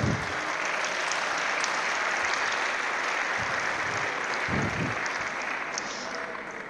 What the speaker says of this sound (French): Ouais, on peut les applaudir.